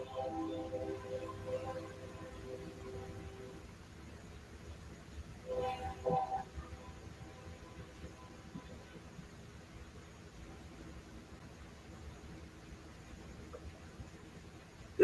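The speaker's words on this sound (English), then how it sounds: "Did a train just pass?" A train passes at a distance during an indoor conversation: a low, steady rumble with sustained horn-like tones near the start, a brief louder burst around the middle, then fading to a faint drone.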